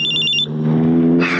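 A cellphone rings with a repeating electronic tone in short pulses that cut off partway through, over a low steady background hum and music, then a brief noisy burst.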